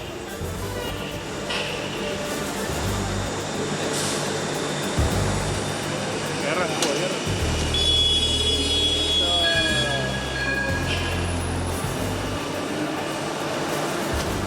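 A tram runs along its line, steady rolling rumble with rising and falling wheel and motor whines and a brief squeal, heard close from aboard with faint voices in the background.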